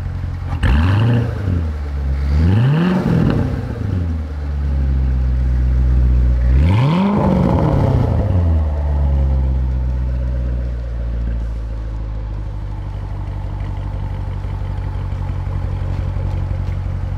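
A Chevrolet Corvette Stingray Z51 engine revs hard in three rising and falling sweeps while driving, then settles into a steady low drone, loud and close.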